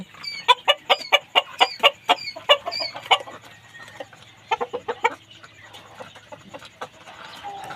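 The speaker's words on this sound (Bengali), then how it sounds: "এখানে আছে আমার ফাউমি মুরগি তো এই যে দেখুন আমার দুইটা মোরগ আর এইখানে পনেরো পিস মুরগি আছে" Fayoumi hens and two roosters cluck in a quick, rhythmic run of sharp calls up close, then pause and resume with a few more clucks in a quiet coop.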